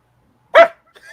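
A dog barks indoors, one loud, close single bark followed by a faint soft whine in an otherwise quiet room.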